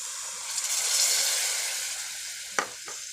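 Tamarind water poured into sautéed citron pickle in hot oil gives a steady, fairly quiet hiss and sizzle, with a couple of sharp crackles near the end.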